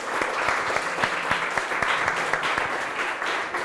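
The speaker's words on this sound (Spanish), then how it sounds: "Un aplauso." An audience at a game jam event applauds in a sustained round, with individual claps standing out sharply against the steady wash of clapping.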